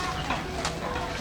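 A duck gives a few quick, close calls in a brief burst, heard over a steady background noise.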